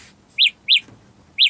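Three short, bright electronic chirps from Samsung Galaxy Buds Live sounding their find-my-earbuds tone, evenly spaced beeps like bird tweets, close and clear over a quiet room.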